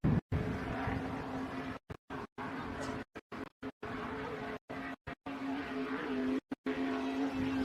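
Offshore race boats roar past in a Gold Coast powerboat race, their engines a loud sustained drone that keeps cutting out abruptly, heard without any talk.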